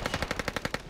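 Rapid automatic gunfire in Call of Duty: Modern Warfare, a quick burst of about nine evenly spaced shots, moderately loud and close, with no talking.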